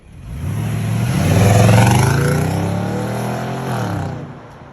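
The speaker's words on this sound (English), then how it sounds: "Take a listen to it as we pull away, because it just sounds really awesome at wide open throttle." A 2021 Nissan Titan Pro-4X pickup with a 5.6-litre V8 pulls away at wide open throttle, its deep engine note swelling loud and rising in pitch, then easing off toward the end.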